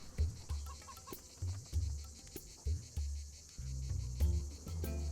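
Chickens in the colony-building game Stonehearth cluck in short repeated bursts, close and fairly quiet, over a faint ambient bed of insect chirps.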